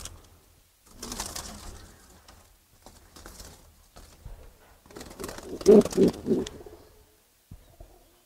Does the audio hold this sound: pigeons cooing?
yes